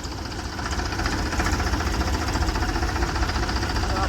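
A tractor engine idles at a weighbridge, a close, continuous diesel chug with steady knocking rhythm that grows slightly louder after the first half second and holds evenly throughout.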